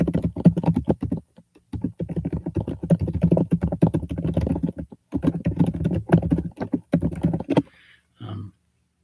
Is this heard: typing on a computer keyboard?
yes